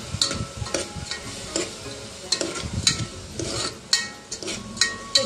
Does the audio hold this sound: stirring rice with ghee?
yes